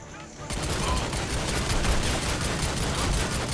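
A mounted turret gun in the Army of Two video game fires a sustained burst of rapid automatic shots that starts abruptly after a brief quiet moment and pounds on loudly to the end.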